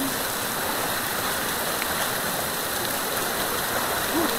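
Constant broadband hiss of rain or rushing water, steady and fairly loud, with no voices.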